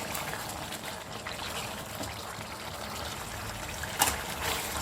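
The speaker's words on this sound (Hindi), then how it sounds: "इसमें थोड़ा सा लेमन का जूस भी डाल दें।" Lemon juice trickles into black-pepper mutton frying in a pan, a soft steady wet dribble under a low sizzling bed with one brief sharper clink near the end.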